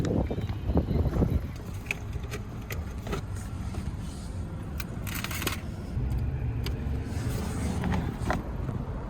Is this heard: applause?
no